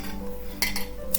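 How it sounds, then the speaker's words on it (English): A fork mashing macamboo bananas in a bowl for St. Lucian banana bread, with soft squishing broken by a few sharp clinks of metal against the bowl. "You can either mash with a fork like I'm doing"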